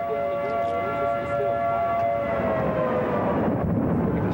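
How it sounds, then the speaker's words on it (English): Loud, sustained wail of tornado warning sirens, a steady rising and falling tone that blares continuously with a rumbling background. "The sirens blare"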